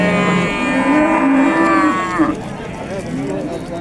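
A cow lets out one long, loud, close moo at a cattle market in Chust, with a quieter second call trailing after it.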